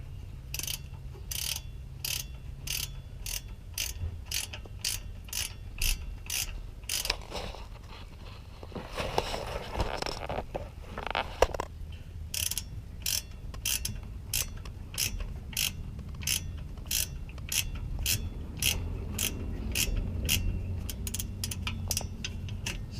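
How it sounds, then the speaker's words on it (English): A hand ratchet clicks in quick, even bursts while tightening a 14mm bolt during a rear differential install on a Toyota Tacoma TRD Pro. There is a short pause midway, then the clicking resumes, close and crisp. "I'm going to tighten it down with my ratchet here"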